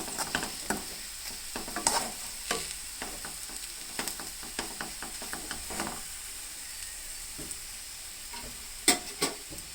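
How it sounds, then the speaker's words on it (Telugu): Chili powder frying in oil on low heat in a pan for stuffed brinjal and beans curry, heard as a soft background sizzle with repeated scraping stir clicks and a few sharper knocks near the end, no talking. "1 నిమిషం పాటు ఫ్రై చేసుకుంటే ఆ కారం అనేది నూనెలో ఫ్రై అవుద్ది"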